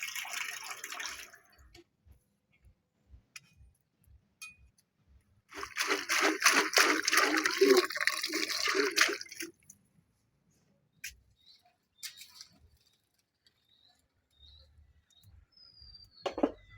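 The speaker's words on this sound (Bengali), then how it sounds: "গরম জলটা দিয়ে দিই।" Hot water poured into a cooking pan of coriander-topped fish curry, a splashing rush lasting a few seconds mid-clip, with faint ticks before and quiet kitchen clinks after; no talk.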